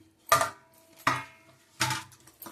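Peanuts and sesame seeds tipped into a metal pan in three separate pours, each a sharp rattling clatter that quickly fades, with quiet gaps between and no voices.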